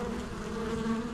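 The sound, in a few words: carpenter bees fighting with honeybees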